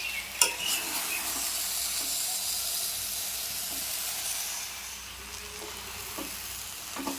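Mango pickle being stirred with melted sugar in a pan on the stove, a steady soft sizzle and hiss with a few scraping clinks of the spoon against the metal, moderately close and without talk.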